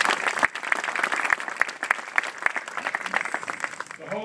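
Crowd applause at an outdoor Tappan Zee Bridge event in Piermont, New York, a sustained dense clapping with a few sharper claps standing out, fading slightly toward the end.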